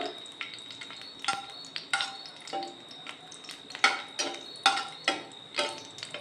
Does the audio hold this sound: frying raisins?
yes